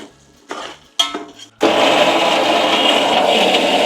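An electric mixer grinds ginger and garlic into a paste in a kitchen: a few short clatters and bursts, then a loud steady whirring grind that runs to the end.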